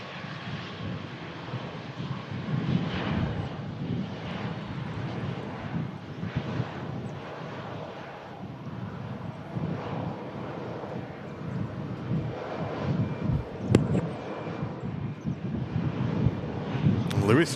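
easyJet holidays airliner arriving from Amsterdam, a steady jet engine roar at moderate distance with wind buffeting the microphone throughout, while a person talks over it.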